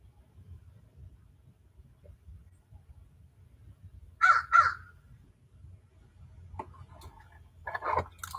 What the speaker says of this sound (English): Crow has an opinion.